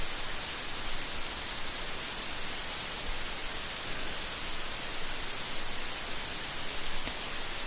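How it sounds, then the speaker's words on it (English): A television hisses with steady, dense broadband static, loud and unchanging throughout with no voices over it. "White noise."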